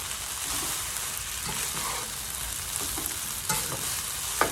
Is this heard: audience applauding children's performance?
no